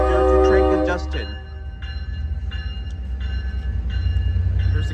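An Amtrak Capitol Corridor passenger train passes close by with a heavy low rumble of wheels and cars, with steady periodic clicks from the rail joints and a loud surge at the start before it settles into a continuous roll.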